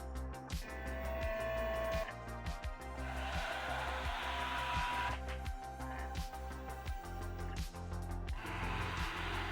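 A Graphtec Solo cutting machine cutting stickers runs with a steady, regular mechanical chatter of rapid clicks and whirring motor passes, close and continuous throughout.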